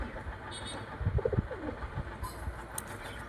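Pigeons kept for sale coo nearby, a few soft low throaty calls in a short burst amid faint background hiss and a distant passing car.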